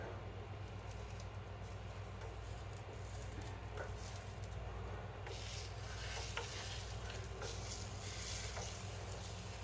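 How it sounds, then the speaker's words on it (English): A spatula scrapes beneath an omelet in a frying pan, loosening it from the bottom over a soft, steady sizzle; the scraping is faint and close, with no talking. "I am loosening it up off of the bottom of the pan right now"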